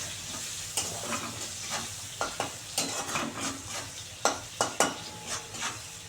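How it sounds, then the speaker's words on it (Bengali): Sliced onions frying with a little sugar in an oily pan sizzle steadily while a spoon scrapes and knocks against the pan in irregular close strokes; nobody speaks. "বড় চামচের হাফ চামচ দিয়ে আমি পেঁয়াজটাকে খুব সুন্দর করে ভাজবো লাল করে।"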